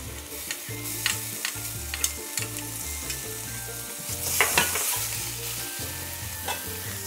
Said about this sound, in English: so stir fry this at really low heat